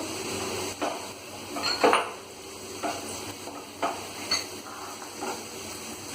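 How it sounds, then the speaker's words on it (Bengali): Capsicum and paneer go into a hot frying pan, where a steady sizzle is broken by several clattering bursts of a spoon stirring against the pan, loud and close. "এবার আমি ক্যাপসিকামগুলো পনিরগুলো দিয়ে দেবো একটু"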